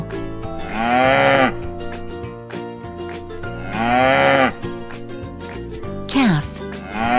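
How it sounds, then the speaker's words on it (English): A cow moos three times in long, loud, drawn-out calls over steady background music, each low bellow rising and falling before the next. "a baby cow is a calf."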